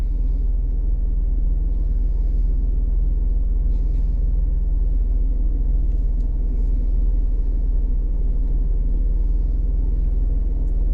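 An Alfa Romeo Giulia 2.0 with a Squadra tune cruises with its exhaust valves open, giving a steady deep droning rumble heard from inside the car over a long stretch, with faint incidental clicks and no speech.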